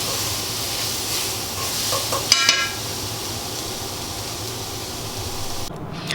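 Bok choy and carrots stir-frying in a pan, a continuous hissing sizzle with a brief burst of spatula scraping and clatter midway, close and steady.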